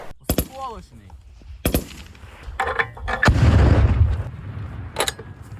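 Several sharp, loud gunshots crack out at irregular intervals during Ukrainian territorial defense shooting training, each with a brief echo, alongside a burst of rumbling noise in the middle.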